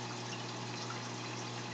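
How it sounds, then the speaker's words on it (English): Someone blows through a siphon tube into a bucket of saltwater aquarium water, producing a continuous, close rush of bubbling and gurgling with no pauses or voices. "put the bottom end in the bucket and blow"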